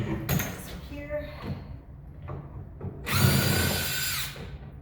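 A power drill backs screws out of a piano being dismantled, giving short whirring bursts followed by one longer, louder sustained run near the end, heard close up.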